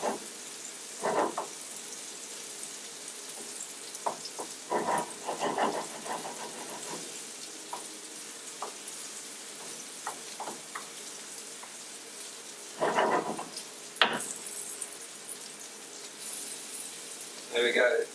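Butter being stirred into risotto in a pan gives a soft, faint sizzle with intermittent scraping and stirring bursts, close and sporadic over a quiet background.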